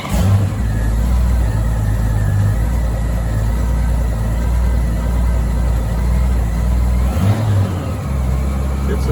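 A Honda Goldwing motorcycle's smooth, carbureted six-cylinder engine with two carburetors runs steadily at close range. A low, even rumble holds throughout, with a brief dip and slight rise near the end.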